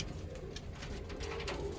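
A pigeon pair, a male set with a netted female, coos in a low steady murmur close by for a brief moment, with no voices.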